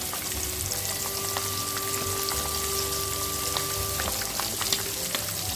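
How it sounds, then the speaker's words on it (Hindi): Pieces of pomfret fish fry in a pan of hot oil, giving a steady, dense sizzle with scattered crackles and pops throughout, close and even in level. "तो हम पहले 2 पीस फ्राई कर लेते हैं"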